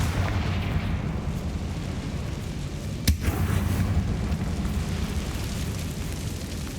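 A Confringo spell explosion in the Hogwarts Legacy video game, one sharp blast near the middle over a dense, rumbling cave ambience.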